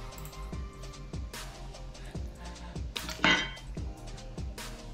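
A cooking pan is banged repeatedly, producing irregular metallic clanks and clinks at moderate distance, with one sharper rattling hit partway through.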